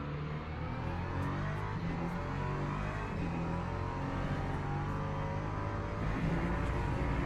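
Steady loud drone of racing engines as LMP2 prototypes close in from behind during an endurance race at Algarve, a continuous whirring roar that holds level throughout without any talk.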